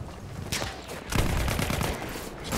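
Grenade explosions in a Battlefield 1 match: a dense barrage of booming blasts and crackling gunfire, heavy and continuous, with a strong low-end burst partway through and no talk.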